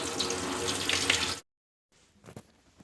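Boiled pasta water draining off, a loud close gushing splash that cuts off abruptly, followed by a brief quiet pause and a few faint clatters.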